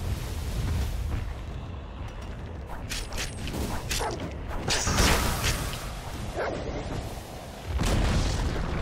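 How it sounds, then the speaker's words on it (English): A tower in Dota 2 is destroyed, giving loud crashing booms and grinding, creaking debris in bursts and a surge near the end. There is no talk. "Dire's top tower has fallen."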